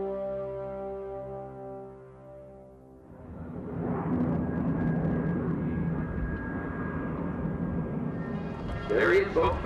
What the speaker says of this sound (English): the plane he loves to fly and does it so well, the Lockheed P-38 plane